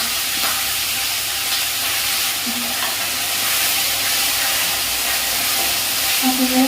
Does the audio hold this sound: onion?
yes